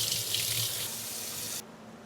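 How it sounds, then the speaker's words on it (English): Tap water runs steadily into a sink while makeup brushes are washed, a close, even splashing hiss that cuts off sharply near the end, leaving a quieter background. "Me washing the brushes."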